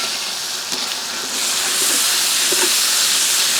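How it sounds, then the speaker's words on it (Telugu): Ginger garlic paste sizzles in hot oil with browned onions, a steady close hiss that swells slightly louder partway through, broken by a few soft stirring knocks. "యాడ్ చేసిన అల్లం వెల్లుల్లి పేస్ట్ నూనెలో చక్కగా వేగి"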